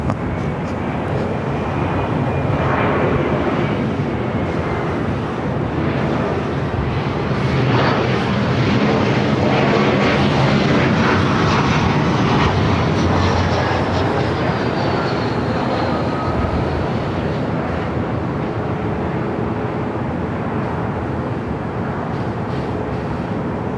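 A Southwest airliner takes off from runway 24 left at LAX, a loud, sustained jet engine roar that swells and holds across the whole stretch with no pause.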